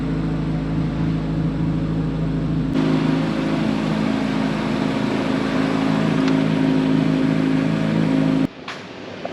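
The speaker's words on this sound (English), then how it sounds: "Vehicle raising." Electric hydraulic front lift raising the nose of a 2023 Chevrolet Corvette Z06, a steady close whirring hum that runs throughout, with a thud near the start and the motor cutting off abruptly near the end.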